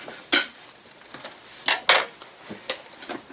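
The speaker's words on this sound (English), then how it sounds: "I am cutting these up huge because I like big bits in my salsa" A knife chops green onions into big chunks for salsa, giving about eight crisp, irregularly spaced strikes on a cutting board, close and clear against a quiet kitchen.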